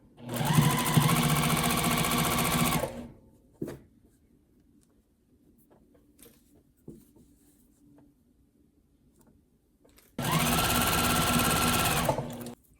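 A sewing machine stitching stretchy hoodie fabric, running in two loud, steady bursts of rapid needle rattle separated by a long pause with faint handling clicks.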